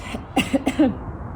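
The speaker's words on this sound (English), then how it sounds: "Every time I say go to take a deep breath, it sets off a little cough" A few short, throaty coughs in quick succession, close by, followed by quiet.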